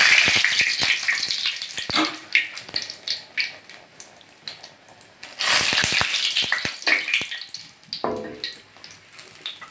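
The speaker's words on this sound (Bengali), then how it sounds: "তেল গরম হয়ে গেছে, এখন আমি একটু সাদা জিরে ফোড়ন দিচ্ছি" Cumin seeds, dried red chillies and bay leaf hit hot oil in a pan, producing a loud, crackling sizzle with sputtering pops that rises and falls throughout, close up with no talking.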